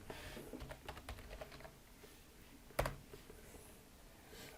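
Brief, light keyboard typing on a computer while setting up a cryptocurrency wallet: scattered quiet key clicks early on, then one sharper, louder tap near the end, with no voices.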